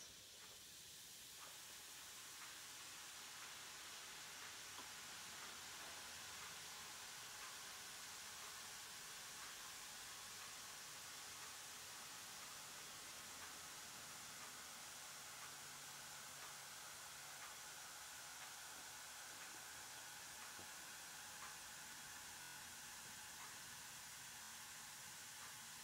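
A fizzing tablet dropped into water hisses and sizzles in a steady, faint, continuous spray of bubbling noise that lasts throughout without talk.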